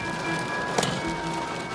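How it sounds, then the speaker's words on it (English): Freezing rain falling on a car, heard from inside: a steady, soft patter of icy drops across the whole stretch, with a brief louder splash partway through. "It's raining ice."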